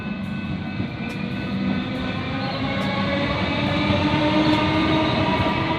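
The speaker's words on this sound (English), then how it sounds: "Oh, and there's a train." A train on Melbourne's Sandringham line rumbles past close by in Prahran, a loud continuous roar with rhythmic clacks of wheels on the rails.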